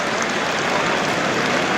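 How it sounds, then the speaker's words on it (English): A ripple of applause from the crowd at the Oval during an England v India Test cricket match, a steady wash of distant clapping heard alone. "A ripple of applause rings round the oval."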